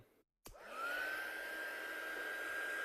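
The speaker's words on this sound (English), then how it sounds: "I'm going to give this a blast with a heat gun now, just help it dry a little bit." Heat gun blowing steadily over freshly applied paint on a stencilled craft project, a loud continuous whooshing airflow with a rising whine that switches on after a brief silence and holds steady.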